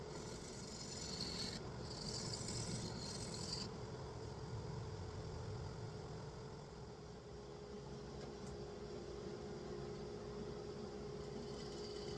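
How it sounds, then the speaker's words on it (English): Carbide woodturning tool cutting a black walnut and resin bowl on a lathe, producing a steady, continuous rasping hiss with a low motor hum underneath, close and moderately loud throughout. "when you get a really nice sharp edge on one of those carbides, it really cuts back the resin and the wood quite nicely"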